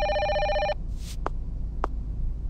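A telephone rings in the video game Escape from Togaezuka: one short, bright electronic ring burst, then two quiet clicks over a low background hum.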